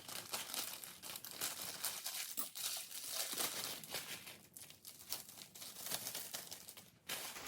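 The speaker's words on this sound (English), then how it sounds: "So I just pull out some little treat bags." Small plastic treat bags are handled and pulled apart close up, giving a continuous, fairly quiet crinkling and rustling with no voices.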